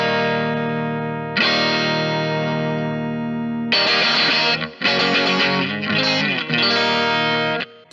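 Electric guitar through a Hello Sailor Abbey Road Fuzz pedal in the up position: a sustained, bright, gritty chord rings out, a second is struck, then a run of choppy strummed chords follows, loud and close with slight clipping.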